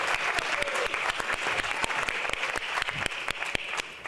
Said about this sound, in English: somebody ought to clap your hands once again and celebrate the fact that he's still going strong